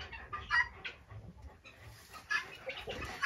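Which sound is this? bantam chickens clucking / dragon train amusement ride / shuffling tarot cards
bantam chickens clucking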